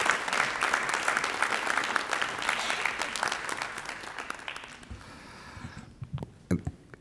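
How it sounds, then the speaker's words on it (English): A school board meeting audience applauds students and their teacher and attorney coaches, dense clapping that holds steady for several seconds, then thins out into a few scattered claps near the end. "Let's give our students and our teacher coaches and also our attorney coaches another round of applause."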